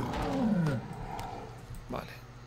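A tiger in World of Warcraft Classic lets out a short, loud roar with a falling growl in the first second, followed by a fainter second snarl.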